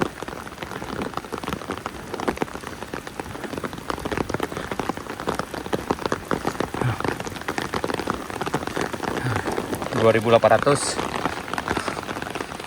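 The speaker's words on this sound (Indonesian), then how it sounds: "Dan hujannya makin lebat." Heavy rain pours steadily on a hillside road near a small landslide at Sariak Bayang, a dense continuous hiss with someone talking over it throughout.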